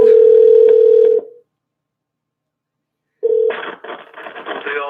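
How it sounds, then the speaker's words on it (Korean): A telephone dial tone hums steadily and loudly for about a second and then cuts off. After a silent pause, a short tone returns, followed by a run of dialing beeps as a call is placed. "다시 전화 드려볼게요, 여러분"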